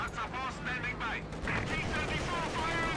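Gunfire and tank cannon shots ring out in a Company of Heroes 2 1v1 match, with a T-34 firing among the blasts, as repeated impacts layered steadily under continuous commentary.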